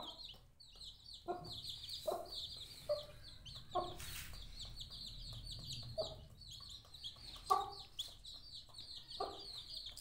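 Aseel chickens cluck in short repeated bursts at moderate distance, set against steady outdoor background noise with a faint rooster-like call now and then.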